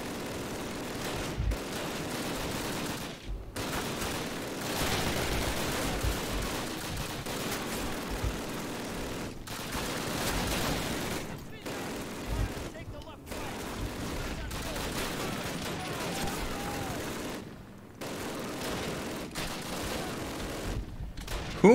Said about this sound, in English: Who are you guys shooting at?